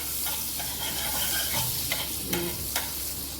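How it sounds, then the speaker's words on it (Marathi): Butter sizzling in hot oil in a pan, ahead of a soya tikki: a steady, even frying hiss with a few brief crackles and spoon clinks, fairly faint and close, with no talk. "त्याच्यामध्ये बटर पण ॲड करते, तेल घातलेलं आहे, बटर ॲड करते।"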